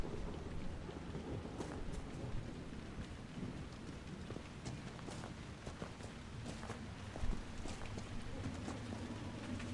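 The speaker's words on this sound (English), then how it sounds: "Lightning striking." Steady rain hisses through a video game thunderstorm in Crestwood, with scattered crackling lightning strikes and a low rumble, one sharper crack standing out late, all fairly distant and without voices.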